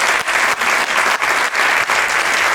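An audience applauds at the closing gala of an international short film festival in Pineda de Mar: loud, dense, continuous clapping, close and steady with slight rhythmic swells, and no talking over it.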